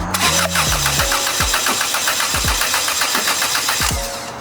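A Honda K24 engine cranks over on the starter during a compression test, with a steady rapid whirring turnover and a rhythmic pulse at each compression stroke. It runs continuously for several seconds without firing, close and loud.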